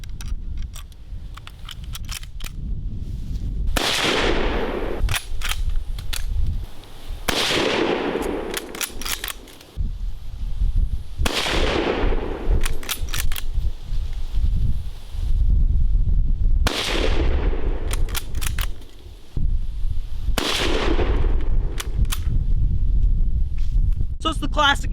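Single loud gunshots from Russian Empire, Soviet and Russian Federation firearms such as the Mosin Nagant rifle, fired outdoors at a steady pace of roughly five spaced shots, each with a sharp crack and a rolling echo, with faint background chatter between.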